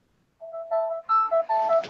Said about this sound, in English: it's my son's phone's ringing